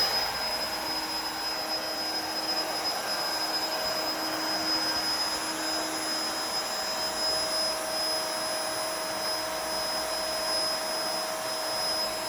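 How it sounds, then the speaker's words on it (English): An electric pump inflates a King Koil California King raised luxury air mattress with a loud, close, unbroken whirring drone. The steady airflow roar and high motor whine hold level throughout, with no one talking. "I am going to start the inflation process"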